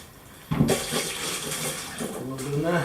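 Water poured from a measured container into a bucket for mixing thinset mortar during a waterproof shower installation, a steady close splashing gush starting after a brief quiet moment and running on with some low background sound.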